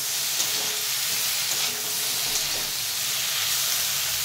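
Homegrown eggplant frying in a pan with ginger, dry red chilli paste and green chillies, a steady loud sizzle and hiss running throughout without pause.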